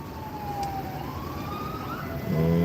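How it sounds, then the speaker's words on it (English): An ambulance siren wails faintly over steady New York traffic rumble in the Bronx, its tone gliding slowly, then growing louder as it draws nearer. "There's an ambulance coming behind me."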